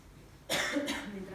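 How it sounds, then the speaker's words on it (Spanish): A single sharp cough bursts out at close range after a quiet pause, followed by a rough, throaty trailing sound. "Me entraba tos."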